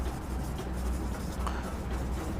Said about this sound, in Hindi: ग्राफ यहीं पे लिख देता हूँ